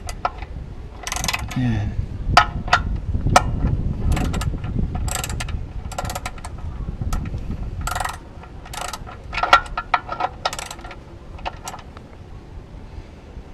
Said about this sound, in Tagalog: gamitin ulit natin yung ratchet natin kanina. So clockwise ngayon mga ka-fixit ang paghihigpit ha.